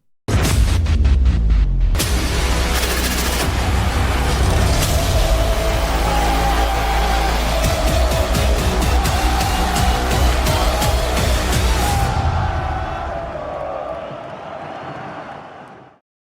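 A booming football-show intro jingle blasts at full volume, with crowd-like roars and hard hits throughout, then fades out toward the end.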